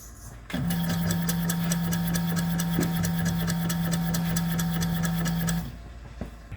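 A Honda CRX with a K-swap engine starts up. A short crank catches into a loud, steady idle with a whining tone and rapid ticking pulses, and after about five seconds it shuts off abruptly into quiet.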